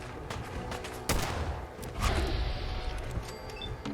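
Gunfire in the video game Fallout 4: sharp, rapid shots and bursts in quick succession, with heavier thumps and a louder volley midway, over a low rumbling background.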